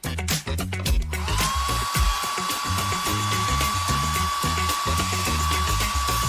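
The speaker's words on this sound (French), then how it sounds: "Et on sèche au sèche-cheveux." A hair dryer runs steadily as hair is dried after combing, its continuous whir sitting under loud rhythmic pop music with a sustained electronic tone throughout.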